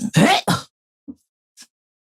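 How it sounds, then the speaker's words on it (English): A person clearing their throat, two rough guttural bursts in quick succession close to the microphone, followed by a couple of faint short sounds and quiet. "I need to clear my throat."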